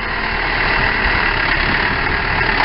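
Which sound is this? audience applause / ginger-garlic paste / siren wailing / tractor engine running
tractor engine running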